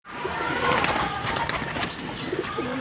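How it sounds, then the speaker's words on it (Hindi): A pigeon coos softly and continuously at close range, a low murmuring call with no talk over it. "कि एक कबूतर है ये वाला"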